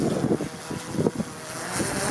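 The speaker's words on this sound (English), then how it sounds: "it's really windy" Strong wind gusts buffet the microphone in low, rumbling bursts, loud and continuous with no voices.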